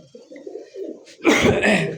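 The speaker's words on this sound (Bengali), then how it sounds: "এটা হচ্ছে অরিজিনালি তুরি বাস, একটা সিঙ্গেল একটা কবুতর।" A single tumbler pigeon gives low, soft coos up close, then a sudden louder burst of sound swells and carries on to the end.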